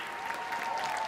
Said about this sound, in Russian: Евгений Григорьев, ваши аплодисменты!